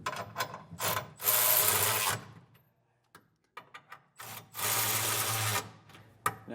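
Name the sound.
ratchet with 3/4 inch socket tightening hitch bolts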